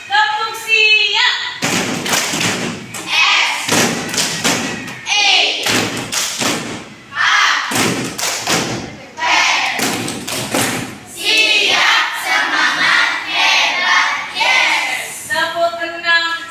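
A primary school class performs a rhythmic clapping chant, loud group claps and thumps in patterned bursts alternating with children chanting together, repeated in several cycles.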